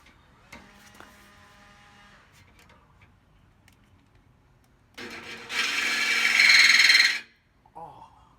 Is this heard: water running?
no